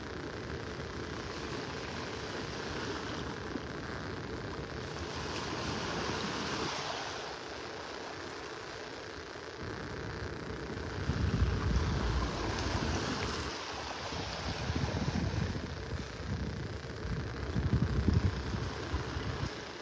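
Surf rolls onto a beach in North Naples as the tide goes out, a steady broadband wash with louder surges breaking in the second half, with some wind mixed in and no voices.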